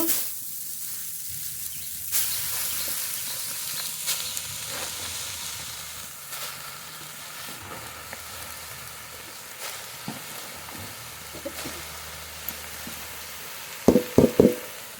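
Bele greens steam and fry in a kadai (wok) while making a village meal, giving a steady close hiss and sizzle throughout, with a few sharp clinks of a utensil near the end.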